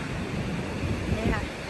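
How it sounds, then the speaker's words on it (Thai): Sea waves wash onto a beach on Gran Canaria, a steady broadband surf roar with gusty wind noise across the microphone, continuous and fairly loud throughout the short stretch. "นี่ค่ะทะเล"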